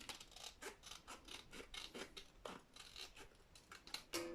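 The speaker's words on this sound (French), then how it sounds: "je vais venir prendre mes grands ciseaux et je vais venir découper la partie qui dépasse du cercle." Large scissors snip through paper while trimming a traveler notebook page: a quiet, steady run of short cutting snips with soft rustling between them, close up and without talk.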